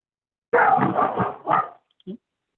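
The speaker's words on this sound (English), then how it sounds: "Sorry, that's my dog." A dog barks in a quick burst of several loud, close yaps during a town finance committee meeting, then gives one short final bark after a brief pause.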